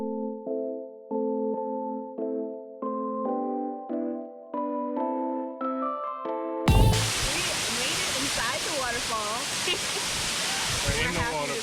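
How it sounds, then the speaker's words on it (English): Waterfall in Bali, heard after a stretch of melodic tones: a loud, steady rushing roar of falling water fills the second half, close by and continuous, with a brief splash at its onset. "We're in the waterfall."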